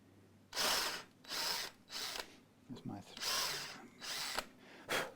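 A power drill boring through wood during a Yamaha EG112 guitar setup, several loud whirring bursts of about half a second each, separated by short pauses with faint handling noise.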